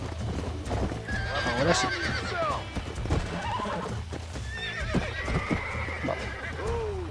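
Hooves clatter in a quick rhythm as a horse whinnies loudly twice in Red Dead Redemption, with a brief spoken phrase and game-like ambience around it.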